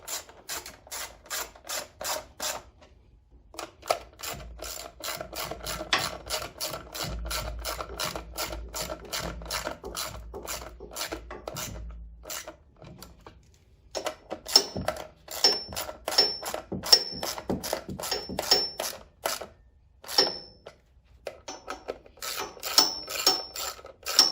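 A ratchet wrench tightens the bolts on a Powerhorse 13000ES watt generator, in a crisscross pattern, during a gasoline-to-propane conversion. Long runs of rapid, close mechanical clicking stop and start as each bolt is worked in turn.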